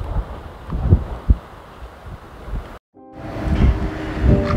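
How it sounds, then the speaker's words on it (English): Strong wind buffets the microphone in loud, gusty low rumbles near Gwalia, Western Australia, broken by a brief cut-out before the blustering resumes. "it is so blowy"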